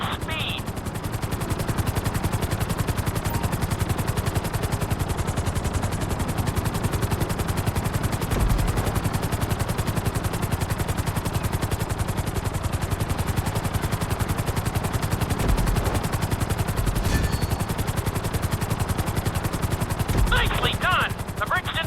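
Helicopter flying through a flight school course in GTA 5, a steady loud rotor and engine drone running throughout, mixed with dense game effects and occasional sharp bursts.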